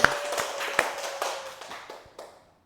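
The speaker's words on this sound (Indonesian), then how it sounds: "Kasih tepuk tangan buat Fandi." Classmates clap for a student in a classroom, a small scattered round of a few hands with distinct individual claps that thin out and fade to silence within a couple of seconds.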